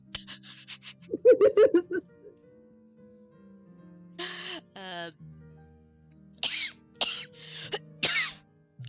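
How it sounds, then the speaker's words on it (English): Several short bursts of coughing and throat clearing in a quiet room, a tight cluster early on and more spaced coughs later, close and fairly loud with no talk between them. "I keep coughing and losing my train of thought."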